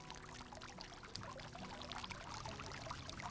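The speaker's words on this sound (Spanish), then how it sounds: "Cómo va cayendo el agua y cómo el agua fluye" Water falling and flowing in a fountain on an afternoon outdoors, a continuous faint splashing hiss and trickle with no break, heard alone at low level.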